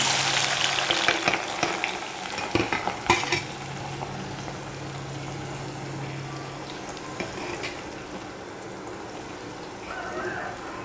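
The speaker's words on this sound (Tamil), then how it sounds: "பொரிஞ்சதுக்கப்புறமா நம்ம இந்த கட் பண்ணி வச்சுருக்கிற வெங்காயத்தை சேர்த்துக்கலாம்" Chopped onions fry in oil that already holds fenugreek seeds, producing a busy sizzle with a cluster of clattering stirs early on that then settles into a steadier, quieter hiss.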